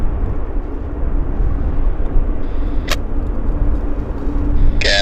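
A Cathay Pacific Boeing 777 airliner rolls along a wet runway, making a loud, continuous low rumble and engine roar that holds steady throughout, with a short sharp click partway through and a rising whine toward the end.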